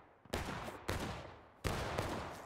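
A musket volley in the Civil War game War of Rights, on a wheat field map, cracks out as three loud, separate rolling bursts of massed shots under independent fire.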